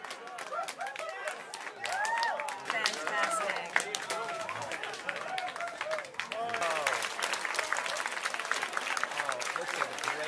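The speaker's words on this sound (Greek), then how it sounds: "Οι τεχνικοί ξεσπούν σε χειροκροτήματα και ζητοκραυγές" NASA technicians burst into sustained applause and cheering at the InSight Mars landing, a dense roar of clapping hands with excited shouts and voices throughout.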